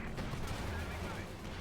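Heavy, sustained battlefield gunfire and explosions in the Company of Heroes 2 strategy game, a dense continuous rumble of shots with artillery and Sturmpanzer fire, with a commentator's voice underneath.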